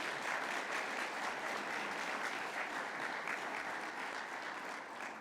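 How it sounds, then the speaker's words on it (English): Graduation crowd applauding a class coordinator at a fire academy ceremony, steady even clapping from many hands, distant and fairly soft but sustained. "You're okay to clap if you want to recognize him."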